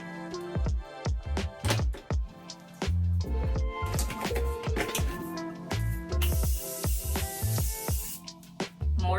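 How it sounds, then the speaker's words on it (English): Morphe setting spray mists in a series of short, sharp hissing puffs in close, quiet surroundings, with soft handling clicks and taps around them and one longer hiss near the end. "Morphe setting spray."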